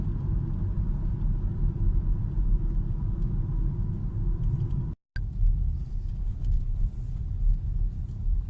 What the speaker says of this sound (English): Bit of a dirt road, a little bit bumpy, but nothing unreasonable.